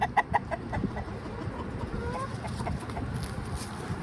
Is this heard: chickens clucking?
yes